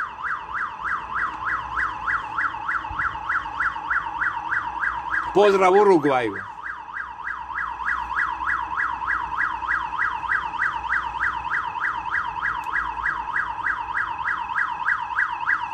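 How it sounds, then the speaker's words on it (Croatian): A building alarm in Split, Croatia, near a high-rise, sounding on its own with no apparent cause: a loud, continuous warbling siren cycling steadily throughout, with a brief voice speaking over it partway through. "Čemu alarm koji iz čistog mira počne svirat?"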